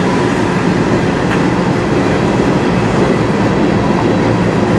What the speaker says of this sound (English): Older beat up gondolas on this train.